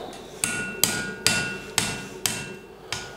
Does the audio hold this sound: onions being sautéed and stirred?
no